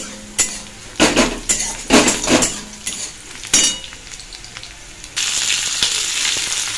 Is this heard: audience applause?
no